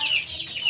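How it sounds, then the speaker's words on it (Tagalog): Backyard chickens clucking after a typhoon, a short close burst of rising, squawky calls. "mga manok natin guys."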